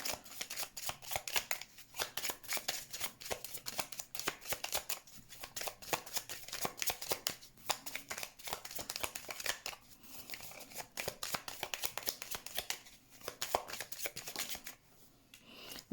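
A tarot deck is shuffled at length by hand, giving dense rapid riffling and flapping card sounds in repeated bursts with brief pauses, close and fairly quiet, with no talk.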